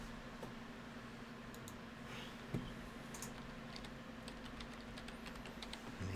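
Someone types one-handed on a computer keyboard, sparse, uneven key clicks sounding quietly at close range over faint room hiss, with one slightly louder tap partway through.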